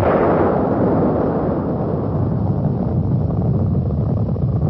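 French nuclear bomb test explosion at sea in the 1960s, heard as a dense, sustained low roaring rumble that stays loud and steady throughout, muffled and heavy with no clear onset.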